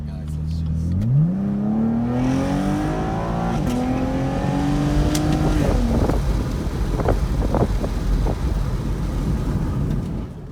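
A Chevrolet Camaro accelerates hard from a stop, its engine rising in pitch through a gear change, loud and close with wind noise, then easing into a rumbling cruise.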